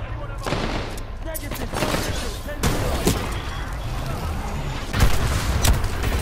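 Explosions and heavy gunfire in the PS4 video game Titanfall 2 form a loud, dense barrage, with sharper booms punching through near the middle and end.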